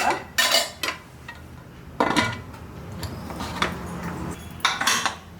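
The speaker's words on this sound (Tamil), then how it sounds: "இப்போ குக்கர் மூடி வச்சிடலாம்." Metal clanks and scrapes as a pressure cooker lid is handled and shut, with several sharp knocks spaced over a few seconds against low background noise.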